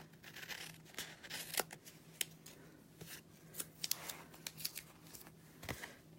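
Scissors snip through paper card pieces while making a handmade card, producing faint, close, irregular cutting clicks and crisp paper rustles, with no voices.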